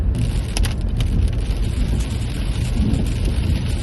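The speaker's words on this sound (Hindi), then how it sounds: "जैसे ही जंगल में एंटर किए तो बारिश हो गई है तेज" Heavy rain pounds on a Skoda Kushaq driving through a forest at night, a dense constant roar of drops on the car with low road rumble beneath, loud and close throughout.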